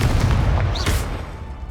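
A Confringo blasting spell goes off in Hogwarts Legacy, a single booming burst swelling over a rumbling low-end bed of ambient game sound, with no talking.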